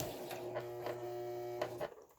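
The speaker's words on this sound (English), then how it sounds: "we are on the second curve, and it really is a quick sew" A sewing machine stitches along the curve of a two-sided fabric placemat, giving a steady motor hum with a rapid needle buzz that runs for about two seconds before stopping.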